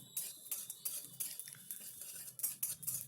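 A spoon scrapes and stirs masala spices frying in a pan for brinjal curry, quick soft metallic clinks in an uneven rhythm, close but faint, with a light sizzle underneath.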